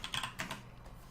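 A short quick burst of keystrokes on a computer keyboard, several light clicks close by, then quiet.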